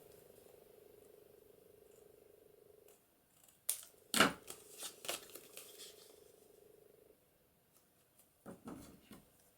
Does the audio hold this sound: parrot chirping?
no